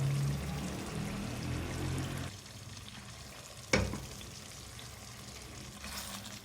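Oil is tipped off a simmering chicken curry by tilting the pan: a close sizzling bubble that drops quieter partway through, a sharp metallic knock, then a soft, low trickle and simmer.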